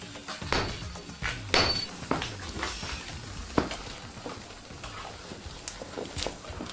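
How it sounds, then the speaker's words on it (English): Sledgehammer blows on heated steel being forged into a samurai sword, a handful of sharp metallic strikes spaced irregularly over clanking workshop noise, fairly close and moderately loud. "Then they batter it with a sledgehammer to fuse the pieces together."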